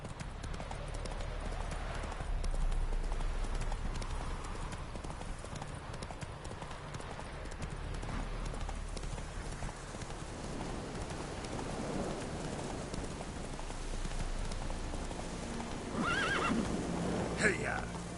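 Horse hooves clip-clop steadily in The Witcher 3: Wild Hunt, with whinnies and neighs rising near the end, over a continuous bed of rain and ambient game sound, with someone talking briefly.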